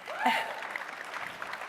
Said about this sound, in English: you guys can clap for that answer